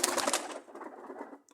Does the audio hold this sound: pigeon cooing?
yes